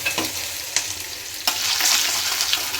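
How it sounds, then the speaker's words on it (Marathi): Chili powder fries in hot oil in a pan, giving a continuous bright sizzle with a few stirring scrapes and a swell of crackle partway through. "आता ह्याच्यामध्ये आपण टाकणार आहोत तेलामध्ये थोडी मिरची पावडर."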